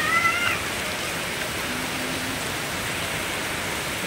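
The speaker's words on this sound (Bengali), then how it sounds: "এই যে বৃষ্টির আওয়াজ" Steady rain falling outside during a Kolkata downpour after hot weather, a dense even hiss that stays constant throughout, with a brief faint voice near the start.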